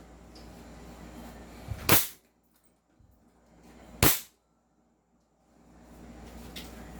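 An airsoft M4 AEG fires through a chronograph: two sharp, loud single shots about two seconds apart, each a hard crack with a quick decay, over faint room noise.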